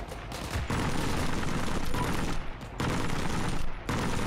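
Loud, continuous gunfire in Heroes and Generals, with sustained rapid shooting broken by a few brief pauses as one volley follows another.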